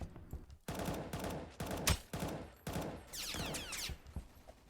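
Rapid automatic gunfire from the Roblox-style shooter game Aimblox, with several loud bursts and a volley of quick shots near the end, close and dominant throughout with no talking.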